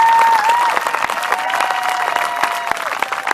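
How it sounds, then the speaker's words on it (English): Graduation audience at a regional high school ceremony giving a final round of applause, steady crowd clapping that starts strong and tapers slightly, with a faint tonal whine running underneath. "One final applause for everybody"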